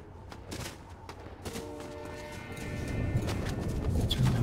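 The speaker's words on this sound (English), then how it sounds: "Shots." Rapid bursts of video game gunfire crackle in a dense fusillade, rising slightly in loudness over a few seconds with faint background tones and no talk.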